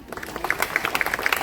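Audience applause at a Gujarati community gathering in the Reliance township, scattered hand claps forming a steady, moderately loud patter that runs the whole short stretch with no talking over it.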